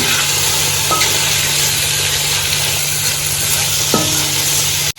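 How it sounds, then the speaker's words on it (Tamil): Chopped tomatoes sautéing in a pan for Ambur-style mutton biryani give a steady, loud sizzle throughout, with a couple of sharp utensil clinks from stirring and no talking. "தக்காளி நல்லா நைஸா வெந்து வர அளவுக்கு வதக்கி விட்டுக்கலாம்."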